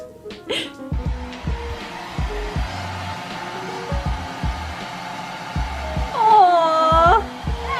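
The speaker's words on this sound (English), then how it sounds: "This is her 3rd time getting blow dried today" A hair dryer blows on a puppy indoors during a snowed-in college week, its airflow rising and dropping in uneven bursts, with a brief whining whimper near the end.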